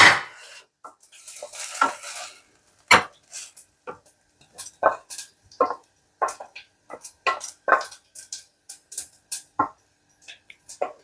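Dal tempering in a pan, stirred with a metal spoon: repeated sharp scraping clinks against the pan in an irregular rhythm over a soft frying sizzle, close and fairly loud, with no voices.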